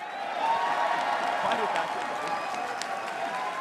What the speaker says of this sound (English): That gets the biggest applause.